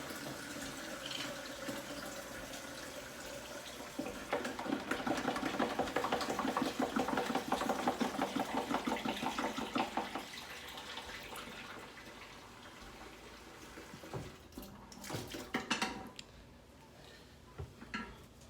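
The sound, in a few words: hot water running to dissolve fertilizer crystals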